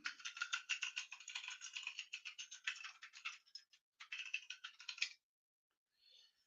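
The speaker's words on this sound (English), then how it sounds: "Oh, so you can hear my keyboard." Fast, crisp keystrokes rattle on a computer keyboard close to the microphone in quick uneven bursts, broken by a short pause and then stopping abruptly near the end, with no talk over them.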